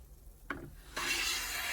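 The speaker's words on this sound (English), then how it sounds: "I used my new jointer plane, a Nagadai Kanna, and it's also my first jointer plane." A Nagadai Kanna Japanese jointer plane shaving across a wooden board, a short scrape followed by a sustained, close rasping hiss as the blade cuts along the grain.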